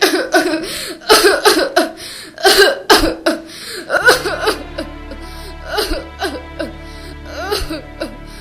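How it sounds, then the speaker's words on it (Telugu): A woman with a bad cough hacks repeatedly in short, harsh bursts, some strained and whimpering, close and loud, with brief gaps and a low music bed entering partway through in a film scene. "ఇప్పుడు చూడు ఎలా దగ్గుతున్నావు."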